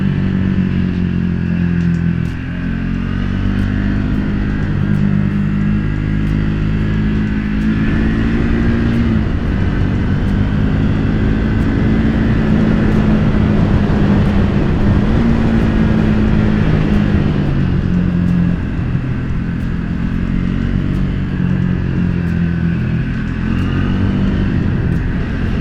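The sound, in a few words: motorcycle riding on road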